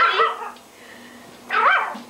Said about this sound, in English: She learned to bark.